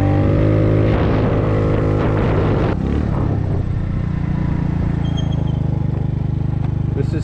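A 50cc GY6 scooter with a performance clutch rides along: its small engine revs up loudly and close, then settles into a steady buzzing drone with wind rush.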